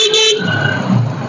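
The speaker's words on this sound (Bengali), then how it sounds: "গাড়ির হর্নটা আমার কাছে ভালো লাগছে না" A single short, bright horn toot from a Suzuki Gixxer 250, a 250cc motorcycle, sounds up close and ends quickly, leaving a low engine or road rumble underneath.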